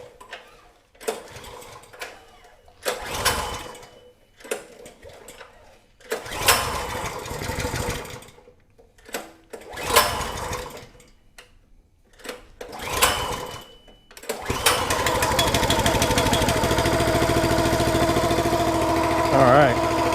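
A small engine on garden equipment is pulled several times with the choke on, giving short sputtering bursts, then catches and settles into a steady, loud idle. Someone talks between the pulls.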